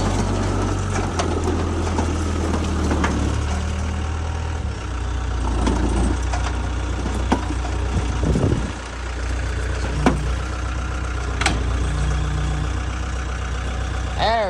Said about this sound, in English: Let's see if he's a good skid steer operator.